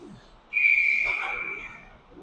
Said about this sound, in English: Whistle on the play.